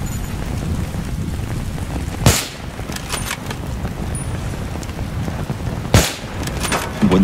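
Gunfire in the video game Battlefield 3 on Xbox Series X: two sharp, loud shot blasts about four seconds apart cut through a steady low rumble of wind and engine ambience.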